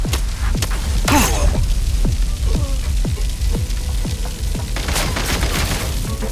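Rapid bursts of explosions and gunfire-like booms in Genshin Impact as a grenade goes off, dense repeated impacts with a brief louder blast early on.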